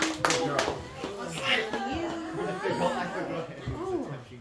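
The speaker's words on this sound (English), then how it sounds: "Give them a round of applause." Applause for children's Easter skit performers at a church service: scattered clapping hands mixed with chatter, children's voices and light laughter, fairly quiet and close, with talking throughout.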